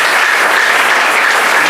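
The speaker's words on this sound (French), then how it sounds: "Applaudissez pour le Seigneur." A church congregation applauds during a French-language sermon, with dense, loud, continuous clapping filling the whole moment.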